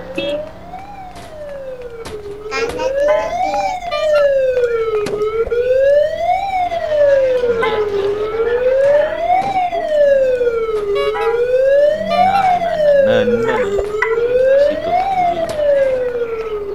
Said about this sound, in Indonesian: ada mobil ambulans di sana